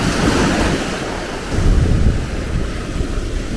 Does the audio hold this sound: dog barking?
no